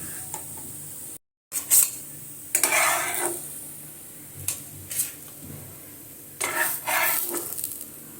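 Fried beetroot cutlets are lifted from a pan onto a plate: soft scraping and clinks of a utensil against cookware come in short bursts over a faint sizzle, moderately close.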